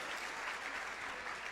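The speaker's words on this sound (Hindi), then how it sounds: "जोरदार तालियां बजा दें मेरे यीशु के लिए" Dense, loud applause from a church congregation during a Wednesday prayer service fills the whole short moment, a steady wash of many hands clapping together.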